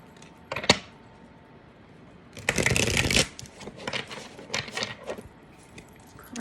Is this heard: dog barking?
no